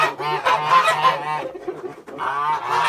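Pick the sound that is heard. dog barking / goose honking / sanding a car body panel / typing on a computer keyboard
goose honking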